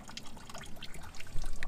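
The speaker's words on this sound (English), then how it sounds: "we're gonna start to fill it up with your" Mazda coolant being poured into a Mazda 5's cooling system, a close, steady liquid trickle with scattered drips that keeps going without a break.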